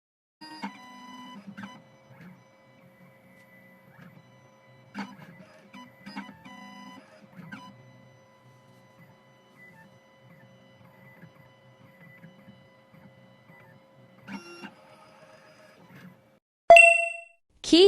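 A 2M2 Tank 2 Pro CNC key cutting machine identifying a Fiat SIP22 key gives a quiet, steady motor whir with intermittent clicks and clanks, then loud bright chimes at the end.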